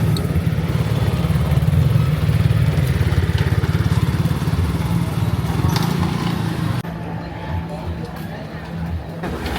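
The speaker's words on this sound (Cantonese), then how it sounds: "揸電單車，呢條咁斜咧都可以衝落嚟" A motorcycle charges down a steep lane at the Khlong Bang Luang floating market in Bangkok, its engine a steady close drone that eases off toward the end, with crowd babble in the background.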